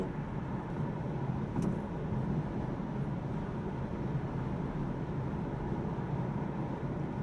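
Steady low road and wind roar inside the cabin of a 2013 Audi RS7 Sportback 4.0 TFSI cruising at 130 km/h, an even, muted drone that stays constant throughout.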